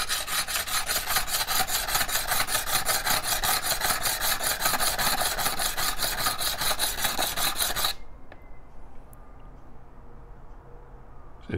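A gemstone is ground by hand on a wet, coarse 200-grit abrasive, making a steady, loud rhythmic rasping scrape with quick repeated strokes for about eight seconds, then stopping abruptly into quiet.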